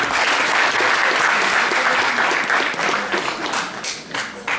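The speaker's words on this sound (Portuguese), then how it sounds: "uma salva de palmas para os senhores, por favor" Sustained applause from an audience at a lecture on local government, many hands clapping in a dense, even roar that thins slightly toward the end.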